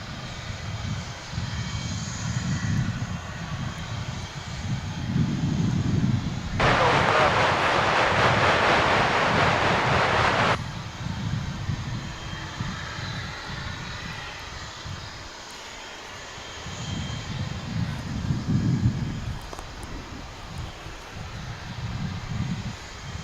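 Qantas and Japan Airlines jets at Dallas/Fort Worth International Airport, sustained low engine rumble swelling and fading in waves, with a sudden several-second burst of loud broadband hiss midway.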